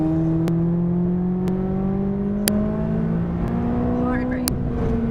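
A McLaren 570S engine accelerates on a race track, a steady rising drone with climbing pitch and brief gear-change clicks, loud and close inside the car with an instructor talking over it.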